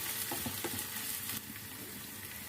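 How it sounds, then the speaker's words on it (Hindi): Chopped onion frying in hot oil, sizzling steadily with a few soft stirring clicks and scrapes up close, the crackle easing slightly partway through, with no talking. "प्याज को हम ऑयल में मिक्स कर लेते हैं और फ्राई कर लेते हैं।"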